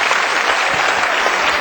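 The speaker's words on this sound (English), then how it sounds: "Listen to the applause." Steady, close applause from an audience at a pool world title match, dense and even throughout without a break.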